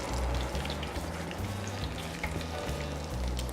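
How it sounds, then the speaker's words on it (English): Steady crackling sizzle of corn dogs deep-frying in hot oil in a deep fryer, close and continuous, with low bubbling underneath and no voices. "you see they immediately start frying"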